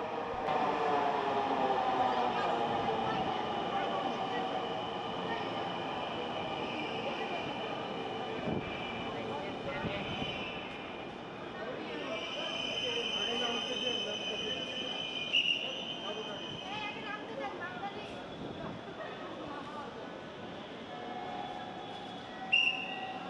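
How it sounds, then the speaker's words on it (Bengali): A Dhaka Metro Rail train pulls into the station and rides on, its rising whine and rumble joined by squealing wheels and a hum, with people talking faintly in the background. "আমাদের ট্রেনে চলে আসছে, আমরা এখন ট্রেনে উঠে পড়বো।"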